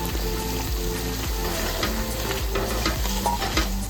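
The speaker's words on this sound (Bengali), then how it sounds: "জল দিয়ে আস্তে আস্তে আস্তে আস্তে সর্ষেটাকে কষিয়ে নেবো" Mustard paste cooking down with water in a pan, hissing and bubbling steadily while a spatula scrapes and stirs in repeated strokes, close and alone without voices.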